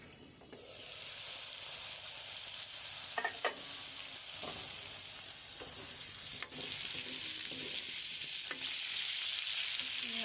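Pointed gourd and potatoes cooking in a covered pan, giving a continuous close sizzle with a few faint clinks scattered through, and no voices.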